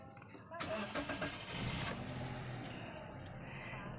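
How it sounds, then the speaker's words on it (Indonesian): A car with an electronic engine management system cranks with the transmission in neutral, a short whirring starter burst that catches into a steady running engine, heard fairly close and alone. "Kemudian kita starter."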